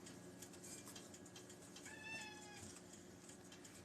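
House cats meow indoors, one short clear meow in the middle over a faint steady background hiss, quiet and nearby.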